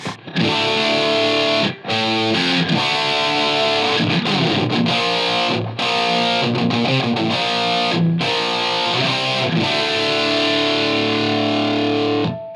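Heavily distorted electric guitar through a Line 6 Helix amp modeler plays chugging rhythm chords, loud and sustained with brief stops between phrases.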